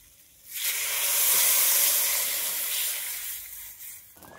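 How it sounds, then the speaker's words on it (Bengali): Water poured into a pan of sizzling fish curry spice paste made with ginger and chilli paste, turmeric, chilli powder and salt bursts into a loud, steady steaming hiss that swells and then slowly fades; close, with no voices. "এখন জল দিয়ে দেব।"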